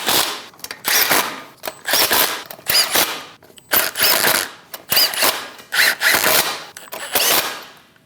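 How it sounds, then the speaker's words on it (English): A power impact tool snugs down lug nuts on a 2003-2025 Chevrolet Express 2500 van wheel, firing loud, rapid rattling bursts about a second long with short pauses between them, close up. "Snug the lug nuts down."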